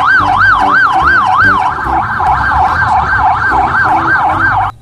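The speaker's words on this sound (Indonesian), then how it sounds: "lengkap dengan sirenenya" Toy police car siren wailing in a fast, regular up-and-down sweep, loud and close, with a second electronic siren pattern blending in partway through and running to the end.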